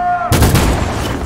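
Gunfire in the video game Detroit: Become Human: a short tone gives way to a loud burst of rapid, overlapping shots that rattles on for about a second.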